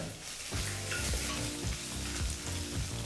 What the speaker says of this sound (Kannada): ಈಗ ಒಂದು ಮೂವತ್ತು ಸೆಕೆಂಡು ಇದನ್ನೆಲ್ಲ ಫ್ರೈ ಮಾಡ್ಕೋಬೇಕಾಗತ್ತೆ